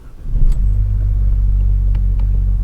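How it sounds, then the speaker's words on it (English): A car engine cranks and fires at the start, then settles into a steady, loud low rumble of idle that continues to the end, with a couple of faint higher clicks over it. "Now let's start the car up and see what if it does anything different."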